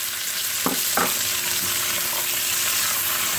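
Onions, carrots and potatoes are stirred in a pot for corned beef and cabbage, with a loud steady sizzle and two brief spoon scrapes early on.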